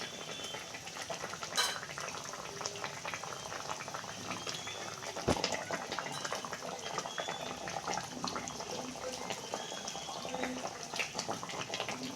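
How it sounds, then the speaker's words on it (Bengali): A pot of chandramukhi potatoes simmers steadily over a low gas flame as pabda fish goes in, a continuous bubbling boil with a couple of sharp splashes and knocks. "আলুটা এটা চন্দ্রমুখী আলু সেদ্ধ হয়ে এসেছে আমি মাছটা দিয়ে দিচ্ছি"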